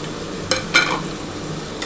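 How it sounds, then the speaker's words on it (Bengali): Capsicum and green chilies sizzle softly in a hot pan, with two quick scraping stirs from a spatula close by and a fainter scrape just before the end. "আর এই যে ক্যাপসিকামটা দিয়ে দিচ্ছি।"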